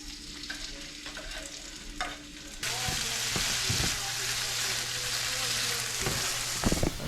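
Onions frying in a pan while being stirred, with a low hum at first, then a louder broadband sizzle under occasional scraping strokes, heard up close and without speech.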